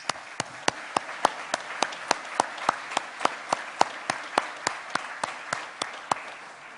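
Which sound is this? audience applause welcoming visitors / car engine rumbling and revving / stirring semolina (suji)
audience applause welcoming visitors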